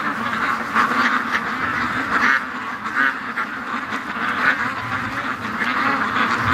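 Muscovy ducks quack repeatedly in a loose, continuous flock chorus over steady background noise, fairly close and moderately loud.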